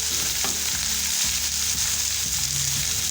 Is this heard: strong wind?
no